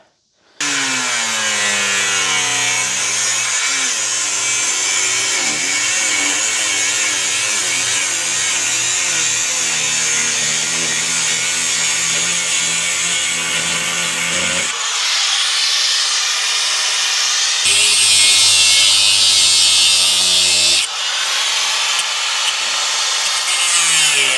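A power tool saws through the steel floor pan of a 1970s-era MGB with the carpet still in place. Loud, steady, continuous grinding-cut noise runs for the whole stretch, with brief shifts in pitch as the blade bites.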